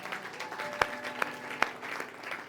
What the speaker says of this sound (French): Acclame d'abord très fort que je te parle.